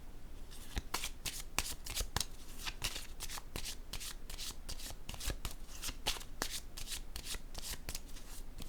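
Playing cards shuffled over and over during a tarot-style card reading, with crisp, rapid riffling bursts and sharp card snaps repeating steadily and close by, no voices.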